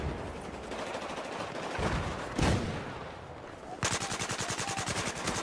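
M249 light machine gun fire in the Battlefield 4 video game, with bursts of rapid automatic shots. A sharp blast comes midway, then a sustained, evenly spaced stream of rounds closes out the stretch.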